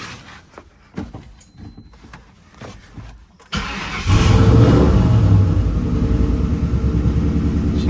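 A turbocharged Ford Mustang SN95 engine starts after a few quiet clicks and knocks, then settles into a loud, close, steady idle with a deep rumble.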